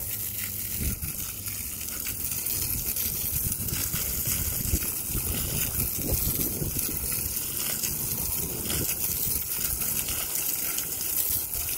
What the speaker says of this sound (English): Gonna spray it. Get that initial dirt off.